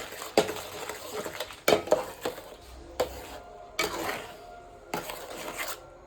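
Khoya kheer and sugar stirred in a pan for patisapta pitha, with close metal-on-pan clinks and scrapes recurring every second or so over a soft rubbing undertone and no voices.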